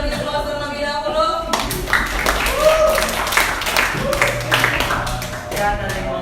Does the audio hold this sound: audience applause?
yes